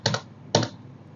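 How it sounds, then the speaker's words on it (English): Two short bursts of typing on a computer keyboard, each a quick cluster of clicky keystrokes about half a second apart, close and clear in a quiet room. "I'm typing here"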